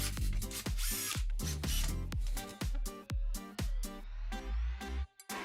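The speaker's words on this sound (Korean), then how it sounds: "이제 나사못으로 브라켓을 고정시킵니다." A power drill drives screws to fix a metal bracket into wall anchors in concrete, with rapid, repeated close whirring bursts and sharp starts and stops.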